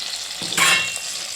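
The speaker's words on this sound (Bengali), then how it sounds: "দেখুন বন্ধুরা পটলগুলোকে ভেজে তুলে রাখলাম" Pointed gourd (potol) frying in oil in a pan, a close, steady sizzle that swells briefly with a brighter crackling hiss, as if stirred, then settles back.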